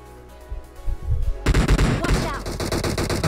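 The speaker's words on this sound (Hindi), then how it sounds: "मैं उसे फायरिंग करता हूँ कि शायद से वो बंदा यहाँ पे नॉक कर सकूँ" Gunfire from a mobile battle royale game: after a quieter start with a few muffled thumps, loud sustained automatic fire erupts into rapid, continuous close-range bursts.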